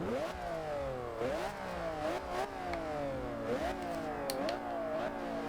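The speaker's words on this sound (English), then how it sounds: "let's see what this car sounds like" A 6-liter V12 Maserati MC12 from 2004 in the Forza Horizon 2 racing game revs repeatedly, each rise in pitch followed by a drop as it shifts, a loud steady engine note throughout without talk.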